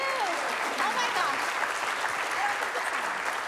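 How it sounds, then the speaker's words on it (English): Steady applause from a live morning show studio audience fills the clip, dense and sustained, with a few faint voices and whistles mixed into the clapping. "Big round of applause for Christine"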